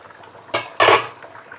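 A lid comes off a cooking pot of potato and fish-roe curry in two quick, bright clatters near the middle, over a quiet, steady kitchen hiss.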